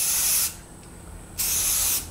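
A spray paint can hisses onto a rifle in two close, steady bursts, the first about half a second long and the second nearly a second, with a quiet pause between.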